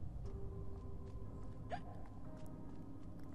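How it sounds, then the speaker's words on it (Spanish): A single short hiccup from Alice, the heroine of the video game Alice: Madness Returns, stands out briefly near the middle over a steady bed of game music and ambience. "Qué gracioso me parece el hipo de Alice."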